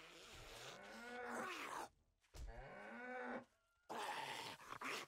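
A cow in a video game joke mod lets out long, groaning moos in two drawn-out bursts separated by a brief pause, close and fairly loud, with no talking over it.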